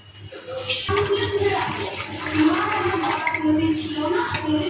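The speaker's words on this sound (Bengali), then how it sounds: "এবার দিয়ে দেব 2 মগ মতো জল।" Water is poured from a mug into a wok set on a lit gas stove, making a steady splashing pour that lasts the whole stretch while a person talks over it.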